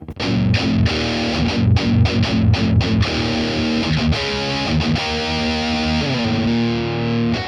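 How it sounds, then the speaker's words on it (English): A distorted electric guitar plays a heavy, chunky riff through a Boss Katana MK2 amp with a Senta OD booster, loud and alone, mixing rhythmic chugs with sustained chords. "This perfectly shapes the distortion to act like the way that the distortion was behaving with the amplifier"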